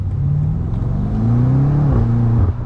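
A BMW M8 Competition engine revs up in a short aggressive burst, the pitch climbing then dropping sharply as it shifts and pulls again, loud and close from inside the car.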